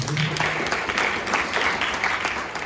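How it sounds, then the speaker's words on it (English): An audience at the closing of a digital future summit applauds, a steady patter of clapping heard up close with no talk over it. "Let's give them a round of applause."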